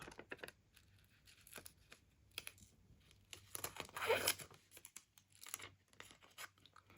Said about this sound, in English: we're going to just take my scissors and we're going to cut around the flower